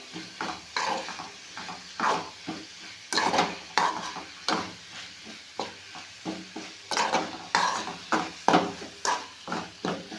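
Repeated scraping and clinking of a spoon mixing fenugreek leaf palya in a pot, in an uneven rhythm of strokes, close and moderately loud, with no talking.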